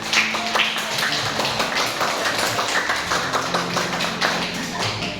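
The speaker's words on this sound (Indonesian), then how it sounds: "Tepuk tangan untuk Mas Kevin" Dense, steady applause from a classroom audience cheering a student named Kevin during an Islamic religious studies lesson, a continuous wash of many hands clapping fairly close and loud throughout.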